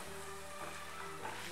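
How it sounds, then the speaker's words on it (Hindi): Walnuts frying in ghee in a pan, a steady soft sizzle with gentle crackle running throughout at moderate, even loudness, with no voices. "इसी घी में हमने अखरोट को भी फ्राई कर लेना है।"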